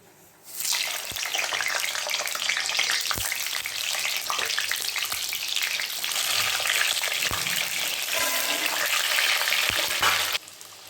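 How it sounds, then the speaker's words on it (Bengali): Whole potatoes fry in hot oil in a wok, giving a loud, steady, close-up sizzle with a few sharp pops and clinks scattered through it. "এই গোটা আলুগুলো আমি ভেজে নেব তেলে"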